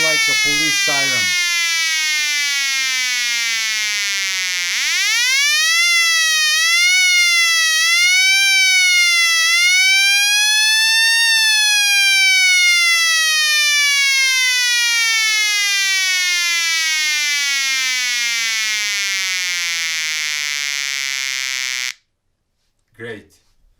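Loud, continuous wail from a homemade transistor siren circuit using a BC337, the buzzy tone rising and falling in repeated sweeps, then gliding slowly downward before stopping abruptly, followed by a brief click.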